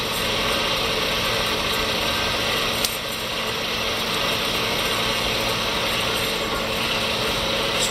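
A Comet 2 HP 9 x 42 inch vertical milling machine runs at medium speed, giving a steady loud mechanical whir with a gear-like rattling drone and a single click near the middle.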